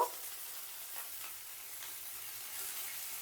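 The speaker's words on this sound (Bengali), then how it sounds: "এইভাবে একটু ভেজে নিলে কিন্তু ফুলকপিটার স্বাদটা কিন্তু খুব সুন্দর হয় এইভাবে একটু ভেজে নিচ্ছি" Cauliflower florets frying in a pan with oil for a singara filling, a faint, steady sizzle running throughout with soft stirring scrapes, quiet and close, no voices.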